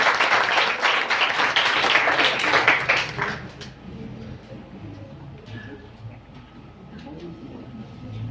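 Audience applause at a women's empowerment project closing ceremony, dense clapping for about three seconds that fades into scattered claps and murmuring room noise.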